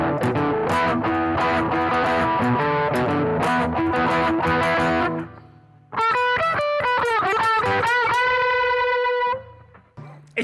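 A PRS electric guitar runs through distortion and a modulation effect, first as dense, driven chords, then after a short break as wavering, bending sustained notes that ring out and fade.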